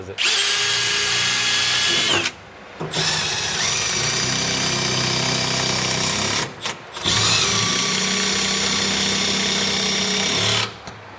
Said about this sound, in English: So you just have to drill.